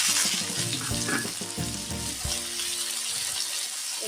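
Green peas frying with ginger, garlic and cumin in a hot pan, a steady loud sizzle with occasional clatter of stirring. No one speaks.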